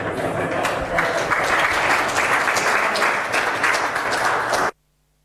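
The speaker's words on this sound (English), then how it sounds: "I would like to ask for a round of applause for the person doing the actual work in OSRV2" An audience at the Battle Mesh v8 event breaks into sustained, dense applause that fills the room steadily for several seconds, then cuts off abruptly.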